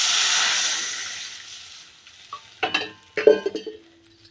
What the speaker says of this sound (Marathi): आता यामध्ये आपण पाणी टाकूया.